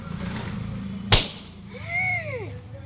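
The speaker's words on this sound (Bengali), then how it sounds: "দুজনের সামনে দুটো বেলুন আছে, হ্যাঁ, আছে তো, তা কি করব? ফাটাতে হবে।" A balloon bursts with a single sharp, loud pop during a family game indoors, over a low background murmur; a brief rising and falling squeal follows shortly after.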